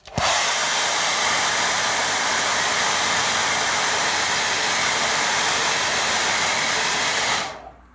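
A hair dryer dries dark watercolour paint, giving a steady, loud, close whoosh that starts abruptly, holds evenly for about seven seconds and then cuts off.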